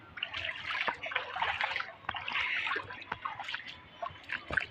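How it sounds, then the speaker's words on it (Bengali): Bare feet wading through a flooded street beside a main road and pond, making rhythmic sloshing and splashing steps close by, each stride a watery swish with small drips between. "দেখো আমি জলের ভিতরে খালি পায়ে চলে এসেছি।"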